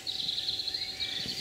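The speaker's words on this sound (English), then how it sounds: "Just that and the birds." Birds sing in a quiet countryside setting, a thin high trilling phrase repeating faintly over still background hush, one call trailing into another.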